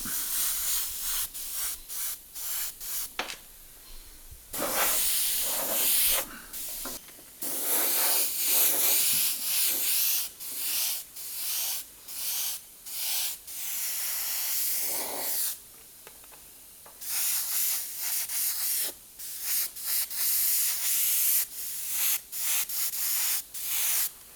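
An airbrush sprays white paint onto a dragon figure in repeated hissing bursts, each lasting a second or two and separated by short pauses, close and fairly loud with no talking.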